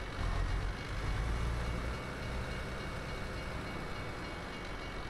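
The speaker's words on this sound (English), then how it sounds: "How many trains come through here?" A train rumbles past in Euro Truck Simulator 2, a heavy low roar that is loudest at first and then settles into a steady, fading rolling noise.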